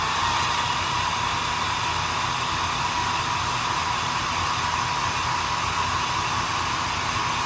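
A hair dryer blows steadily and loudly on freshly applied chalk transfer bats, a constant rushing whoosh with a low motor hum running unbroken from start to finish, with no talking.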